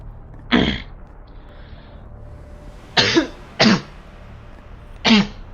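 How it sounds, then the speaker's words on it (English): Four harsh coughs from one person close to the microphone, one isolated at first and then three more in a looser cluster, each short and loud over quiet room noise. "my coughs are not usually this bad, even during recording"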